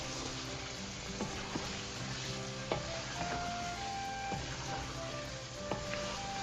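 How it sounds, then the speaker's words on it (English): A spoon scrapes and stirs beef curry masala as it sizzles in a pan, with steady frying crackle underneath and several sharp clinks of utensil against metal spread through the mix; no talking. "Give it a good mix properly"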